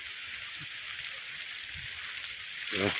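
A soft, steady hiss of rain falls outdoors on a mountain path on Parasnath Hill, Jharkhand, faint and even, with a brief voice at the very end.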